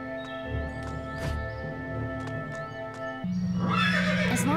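Knights' horses in the video game Ben 10: Alien Force neigh and whinny over steady clip-clop hooves, with a game music drone underneath; a louder, busier burst of galloping and whinnying kicks in near the end.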